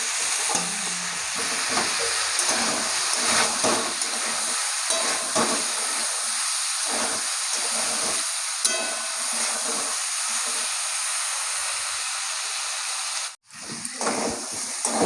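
Potatoes and bean seeds fry steadily in a pan, a continuous close sizzle with frequent scraping stirs throughout, briefly cut near the end before resuming.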